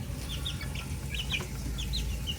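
Young four-way cross chicks about a month old, fathered by a McLean cross, cluck and peep steadily at close range, with short chirps repeating over a continuous low background rumble.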